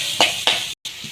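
Onions, ginger paste and green chillies frying lightly in a pan, giving a steady soft sizzle. Two brief stirring scrapes of a spoon sound against it, and a short dropout cuts in near the end.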